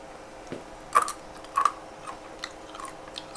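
Freeze-dried Skittles candy is chewed close up, giving a few soft, quiet crunches and squishy bites spread over a few seconds against a low background.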